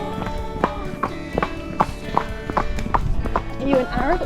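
Hooves of a horse, an Arab called Naz, clip-clopping in an even rhythm during a training session, close and fairly loud, with a person talking over the footfalls.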